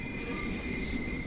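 A train in the video game Train Sim World 5 rolls in with a steady, high metallic wheel squeal over loud continuous rumble, close and unbroken for the whole moment.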